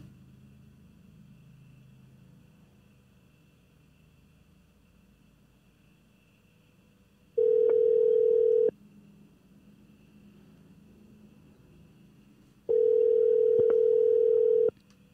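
An outgoing telephone call rings out twice, two steady electronic tones each lasting about a second and a half, separated by a quiet line hiss, with no talking.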